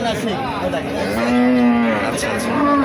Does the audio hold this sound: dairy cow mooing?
yes